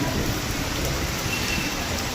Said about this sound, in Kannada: ಮಳೆ ಬರ್ತಿದೆ ತುಂಬ